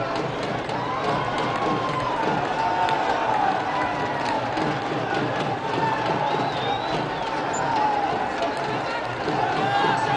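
Cricket crowd at a UAE versus Afghanistan T20 international cheering after a wicket, a steady dense roar of voices and shouts sustained throughout, with a commentator talking over it.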